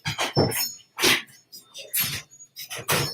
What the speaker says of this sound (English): He's just a puppy.